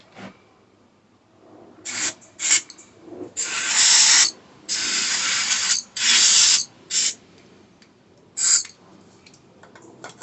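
Aerosol spray hisses onto stripped Suzuki GSX1100 motorcycle parts in a series of short and longer bursts, close and fairly loud, separated by quiet handling noises.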